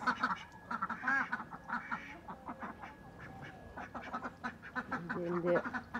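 Ducks in a rural Bangladeshi village quack repeatedly in quick, irregular bursts. The calls are close and moderately loud, with faint outdoor background noise.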